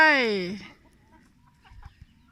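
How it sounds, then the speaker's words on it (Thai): A German-breed farmyard chicken gives one loud, close, drawn-out call lasting about half a second. Near-silence follows, broken only by a few faint soft noises. "นี่ไก่นะคะ ไก่เยอรมัน"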